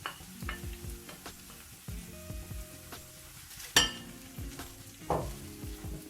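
Lentil dal ingredients, including finely chopped green chillies, being stirred in a sizzling pan: repeated close scrapes and clatters of a spoon against the pan over a low fry, with no voices.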